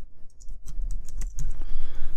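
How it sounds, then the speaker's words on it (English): Typing on a computer keyboard while entering a search term: a run of quick, irregular key clicks, close and fairly loud, with no talking. "I start typing in, I'm making this up, I start typing in Atlanta"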